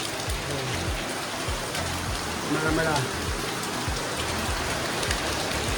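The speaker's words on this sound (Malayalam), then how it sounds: "ഫുൾ മഴയായി ഗൈസ്, ഫുൾ മഴ." Heavy rain pours down in a dense, steady hiss, with low rhythmic thumps and a brief faint voice in the middle.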